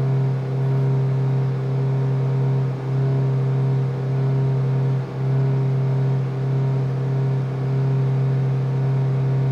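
A Mitsubishi Lancer car engine revving and held at a steady high pitch around 4,000 RPM, loud and continuous, with a couple of brief dips, no talking.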